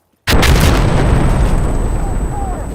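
A placed explosive charge detonates in the shooter game Insurgency Sandstorm, a sudden loud blast after brief silence that rolls into a long rumbling decay.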